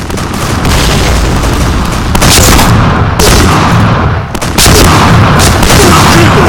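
A grenade explodes in the shooting video game Point Blank, within dense, loud game audio: heavy booms and bursts of gunfire layered together almost continuously, with brief dips between blasts.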